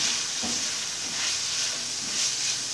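Minced chicken with spices being stirred and cooked in a hot pan, giving a steady sizzling hiss with soft scraping of the spoon, close and continuous without talk.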